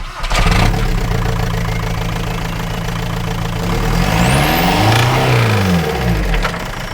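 A race car engine with its exhaust removed fires up and settles into a raw, rough idle, then is blipped into a sharp rev that rises and falls before dropping back to idle, loud and close with no talk.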